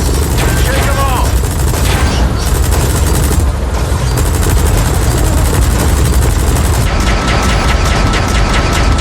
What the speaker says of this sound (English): Chopper's minigun. Shake them all!